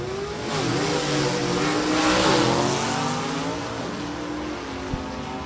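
A 2017 Camaro with a 427 engine launches down a drag strip at Maple Grove Raceway, a loud rising engine roar with tire squeal that builds and sweeps past, then eases off.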